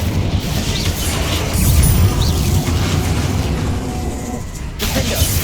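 Incendio fire spell cast in the Hogwarts Legacy video game amid combat, a loud whooshing roar of flames with booming impacts and crashes layered over one another, continuing for several seconds.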